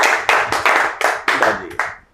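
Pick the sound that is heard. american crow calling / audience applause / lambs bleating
audience applause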